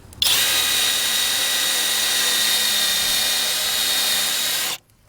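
A power drill runs steadily at high speed while boring into the door hang pillar of a Nissan Altima, a loud continuous whine lasting several seconds before cutting off abruptly.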